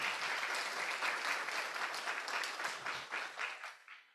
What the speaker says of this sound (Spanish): Un fuerte aplauso para todos y todas,